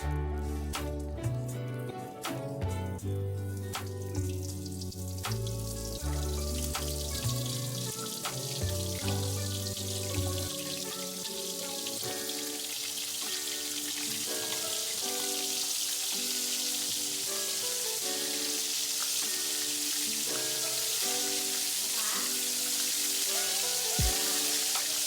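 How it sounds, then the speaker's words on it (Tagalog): Floured fish fillets fry in oil with a bright, continuous sizzle that builds and holds steady. Background music plays softly under it during the first half. "iprito na natin."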